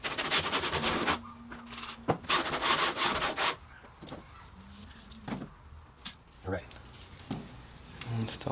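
A rag rubs isopropyl alcohol along a Toyota Tundra truck bed rail, giving bursts of close, loud scrubbing and rubbing strokes in the first few seconds, followed by quieter scattered wipes and handling sounds.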